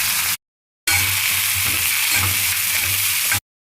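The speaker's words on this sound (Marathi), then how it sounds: "थोडंसं जिरं तडतडले की हे आपण आळूचे देठ ह्याच्यामध्ये टाकत आहे." Taro stems dropped into hot oil with spluttering cumin seeds, giving a loud, steady frying sizzle that cuts off briefly near the start, then resumes and runs on evenly with no voices.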